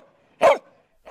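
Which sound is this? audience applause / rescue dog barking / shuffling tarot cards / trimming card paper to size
rescue dog barking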